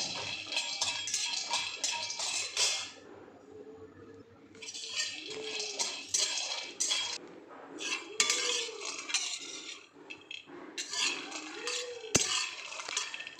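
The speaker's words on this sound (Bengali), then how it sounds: "100 গ্রামের মতো চিনিবাদাম দিয়েছি, অল্প আঁচে নাড়তে নাড়তে চিনিবাদামটা হয়ে যাবে।" Peanuts are stirred and dry-fried over low heat in a pan, a close, irregular rattling and scraping that comes in bursts with short quiet gaps and a few metallic clinks, no voices.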